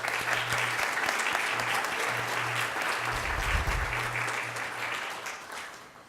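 Audience at a Black History Month essay awards ceremony gives a hearty round of applause, dense clapping that holds steady for several seconds and then gradually tapers off, with a low hum underneath.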